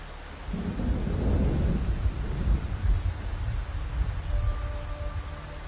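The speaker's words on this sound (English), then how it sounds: "today it's a gale and rain again" Stormy gale-and-rain weather ambience with a low, sustained rumble of wind and rain, a broad swell of rolling thunder early on, and steady dense noise throughout with no talking.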